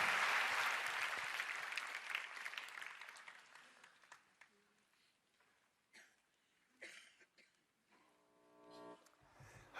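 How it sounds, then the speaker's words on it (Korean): Applause in a church prayer-meeting hall welcoming a pastor to the pulpit, strongest at the start and steadily thinning into scattered claps and faint room sounds before a voice begins. "환영의 마음을 담아 힘찬 박수로 맞이하겠습니다"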